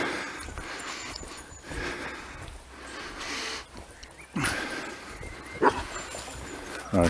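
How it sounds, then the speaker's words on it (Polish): A dog outdoors gives several sharp, fairly close barks and yips in short bursts over a steady background hiss. "A się wystraszyłem pieska."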